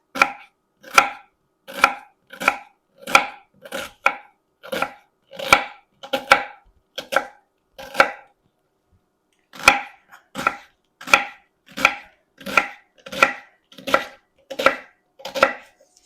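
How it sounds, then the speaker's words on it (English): A knife chops through a medium onion on a cutting board in steady, crisp strokes, about twenty close, evenly spaced knocks with a short pause midway, and no voices. "You want to chop one onion, a medium size."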